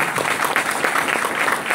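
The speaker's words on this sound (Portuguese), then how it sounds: "uma salva de palmas para vocês aqui" Audience applause at a Brazilian sales seminar, a loud, close, continuous burst of many hands clapping in a dense rapid patter throughout the short stretch.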